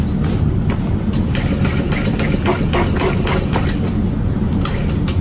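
A sewing machine runs steadily as it stitches slowly around the edges of a folded vinyl section of a barrel bag, a continuous mechanical whir with faint rhythmic clicking throughout, no talking.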